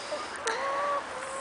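Hens in a homestead flock cluck softly in a brief, fairly quiet burst of short clucks and a drawn-out call, with no talk over it.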